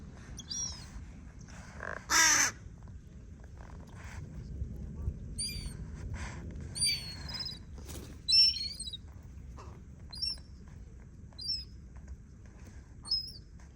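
Wild crow calling outdoors in a quiet spot, several short sharp caws and chirpy calls scattered across the clip, some near and loud, others fainter, over a soft ambient background.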